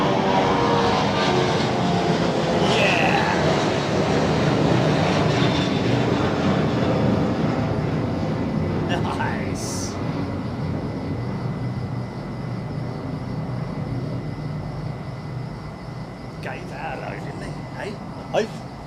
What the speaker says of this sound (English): Nice 777-200, here we go.